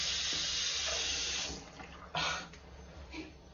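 Water runs from a tap for hand washing, a steady hissing stream that fades midway, then brief splashy bursts as hands move under it, heard alone without voices.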